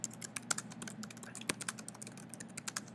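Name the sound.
typing a blog title on a computer keyboard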